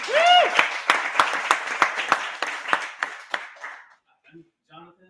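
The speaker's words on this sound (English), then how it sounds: "Just applause." Audience applause follows a live climate change theater performance in Chicago, a dense burst of clapping that thins out and fades, with a voice rising above it at the start and faint murmurs after.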